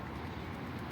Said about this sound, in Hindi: कबूतर देखिए